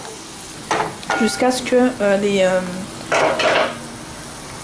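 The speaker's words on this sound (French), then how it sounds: "je vais laisser mijoter tout ça, donc à feu moyen" Onions sizzle in a pan over medium heat, a soft hiss running throughout beneath a voice, with a few bursts of stirring and utensil scrapes.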